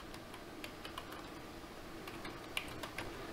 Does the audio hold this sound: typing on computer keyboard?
yes